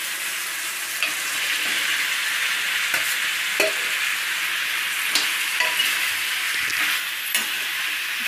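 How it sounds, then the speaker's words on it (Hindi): Chickpea and pumpkin curry fries in a pan with a constant close sizzle, punctuated by a series of spoon scrapes and knocks as it is stirred, no voices present. "अब इसको चला करके देखते हैं। देखिए अब इसके अंदर ये कद्दू ऐड कर दे रही हूँ।"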